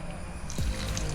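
Water poured into a pressure cooker holding jackfruit pieces for boiling, a brief close splashing slosh.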